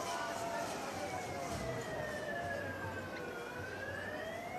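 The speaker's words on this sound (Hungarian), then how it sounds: "hogy az a sziréna hang, amit itt hallunk." An emergency vehicle siren wails in long, slowly sweeping tones across a handball arena during a match, steady and moderately loud over the hall's crowd din and ambient noise.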